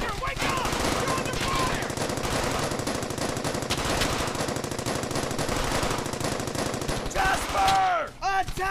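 Sustained automatic gunfire from the World War II shooter Brothers in Arms: Hell's Highway, dense and loud throughout with rapid bursts and overlapping shots, easing briefly near the end as a shouted voice cuts in.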